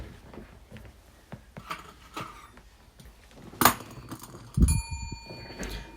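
A small hand bell rings once, a bright metallic ding with a lingering ringing tail near the end, after scattered quiet taps and shuffling handling sounds.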